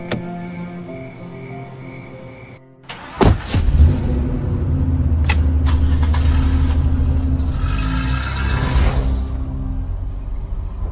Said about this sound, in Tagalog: Ipapahatid kita sa sasakyan ng driver mo.